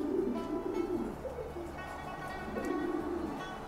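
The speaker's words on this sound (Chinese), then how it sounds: "其实我鸽舍里面的鸽子啊" Pigeons coo softly in a pigeon loft, giving low, repeated rolling coos at a faint level against quiet background noise.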